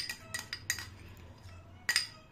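Utensil scraping and clinking in a bowl while yogurt and ingredients are stirred into a creamy mix, several sharp metallic taps and scrapes at uneven intervals, close and fairly quiet.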